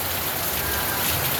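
Heavy rain pours during typhoon Kristine in a loud, unbroken hiss of drops hitting surfaces, dense and close with no pause and no voices.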